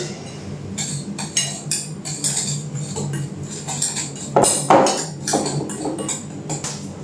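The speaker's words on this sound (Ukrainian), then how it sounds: "перемішуємо це все." Meat for dried kabanos sausages is mixed with sugar in a bowl, giving a steady run of close clinks, knocks and scraping taps with no one talking.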